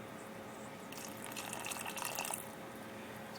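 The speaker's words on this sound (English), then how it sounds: "Next up, a nice splash of bourbon." Bourbon splashed into homemade BBQ sauce made with apple cider vinegar, a short liquid pour lasting about a second and a half, quiet and close, with no talk.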